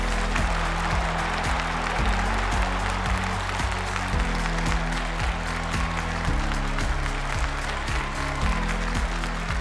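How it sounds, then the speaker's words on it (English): An audience gives a round of applause for the EcoMS team at an event, the clapping running steadily beneath loud, pulsing music with a heavy bass beat that dominates throughout. "A big round of applause for this initiative, a big round of applause for EcoMS team."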